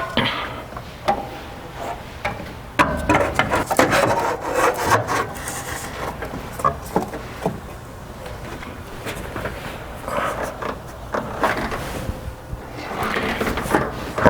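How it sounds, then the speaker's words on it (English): A blower fan motor is fitted into a classic Chevy truck, with close scraping, rubbing and knocking of parts against each other in irregular bursts and short bumps, fairly loud and without talk. "Let's get this motor put in here right now."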